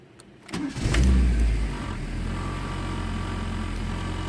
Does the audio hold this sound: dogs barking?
no